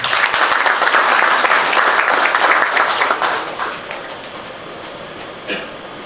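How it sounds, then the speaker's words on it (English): An audience at a corporate MasterCard launch event gives a loud round of applause that tapers off after about three seconds, followed by a quiet room with a single cough. "A round of applause."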